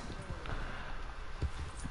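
Horse hooves clip-clop at a walking pace in Red Dead Redemption 2, soft and fairly steady beneath game ambience and faint talk.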